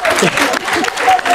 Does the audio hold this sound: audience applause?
yes